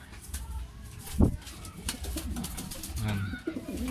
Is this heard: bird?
yes